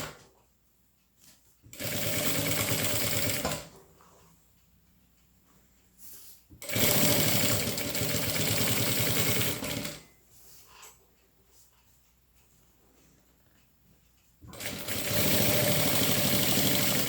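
A sewing machine stitching a zipper onto fabric runs in three steady bursts of about two to four seconds each, loud and close, with quieter pauses between them.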